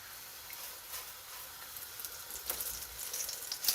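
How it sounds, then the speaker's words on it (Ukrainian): Steady, soft sizzling of flatbread dough frying in a hot pan over low heat, with light crackles and pops building toward the end. "І на розігріту сковорідку зараз будемо класти. І кладу цей коржик."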